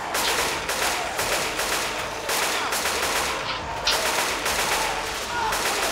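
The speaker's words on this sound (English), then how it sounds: "he's using the minigun" Sustained rapid minigun fire from a video game rattles on almost continuously with brief gaps, loud and close, layered with other gunfire and game noise.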